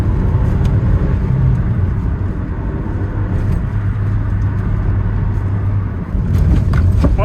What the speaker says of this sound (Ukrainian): Мотор набирає добре.